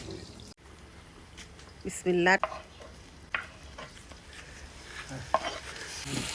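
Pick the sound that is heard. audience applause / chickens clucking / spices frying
spices frying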